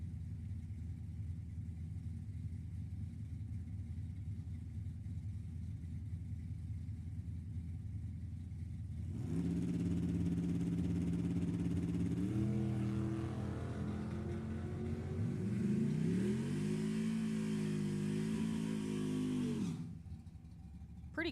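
Bracket drag racing cars at Sacramento Raceway launch off the line, a steady idle rumble giving way to loud, rising engine revs as the cars pull away, then cutting off abruptly near the end.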